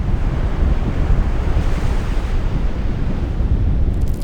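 Ocean surf and wind on Sable Island, a continuous loud low roar of breaking waves with heavy buffeting wind noise on the microphone throughout.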